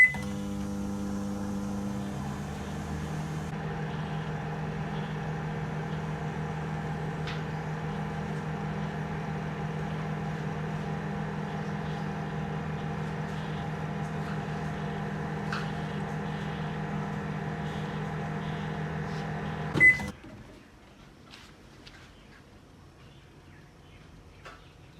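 A microwave oven hums steadily for a long stretch on high heat while cooking a mug cake, then stops with a clunk and a brief beep, leaving a quiet room.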